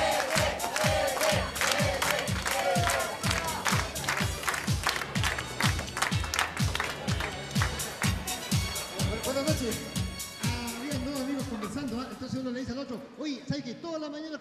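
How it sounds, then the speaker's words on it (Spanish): Loud studio audience applause and cheering during a comedy variety show, with a dense rhythmic clapping pattern and music, giving way near the end to a voice speaking over fading claps. "démosle un fuerte aplauso al ET"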